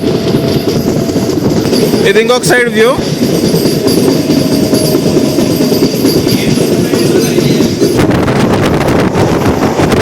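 A MEMU local train on the Rajahmundry to Bhimavaram line runs through foggy coconut groves, its loud, steady clickety-clack mixed with wind buffeting the microphone, as someone speaks over the noise.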